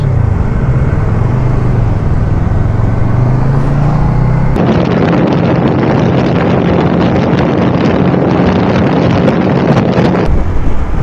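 Strong wind buffets the microphone during a motorcycle ride in Cebu, over a constant engine drone, the roar suddenly getting rougher and gustier partway through before easing near the end.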